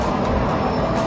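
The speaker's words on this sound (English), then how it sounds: "That is the sound of the road wheels." Road wheels of a parked roller coaster train at Wisconsin Dells, still spinning after the ride: a steady, broad rumbling whir heard up close, continuous and alone without talk.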